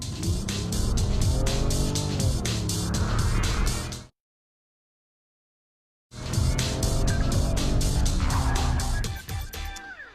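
Mercedes-Benz car revving hard and climbing through its gears on a long straight stretch, loud and close, with tire squeal; the sound drops out to silence for about two seconds midway, then resumes at full power.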